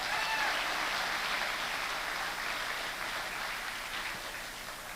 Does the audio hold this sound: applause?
yes